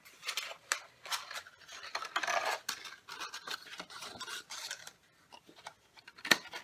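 Scissors snip along the paper edges of a journal window pouch, making a series of crisp, close cuts and rustles with brief pauses, ending with one sharp louder snip.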